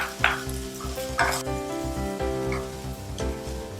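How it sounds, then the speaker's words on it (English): Onions sauteing in oil in a hot pan for chicken fried rice, a loud close sizzle broken by several sharp stirring scrapes and clatters. "Start by sauteing the onions."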